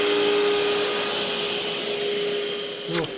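A vacuum cleaner with a clogged hose runs steadily close by, its strained whine holding a constant tone beneath a broad hiss, then a brief sucking gurgle near the end.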